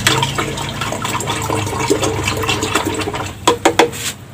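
A red ginger microorganism mixture, a homemade liquid organic fertilizer, is stirred, giving a continuous sloshing, swirling water sound with a few louder splashy bursts near the end.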